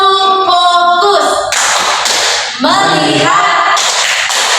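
A classroom group performs a rhythmic clap chant, with voices chanting in unison and bursts of loud, quick clapping.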